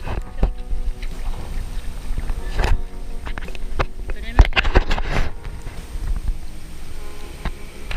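Paddle strokes on open water during a long-distance paddling training trip, heard as irregular close splashes and thumps over steady wind noise on the microphone, with no talking.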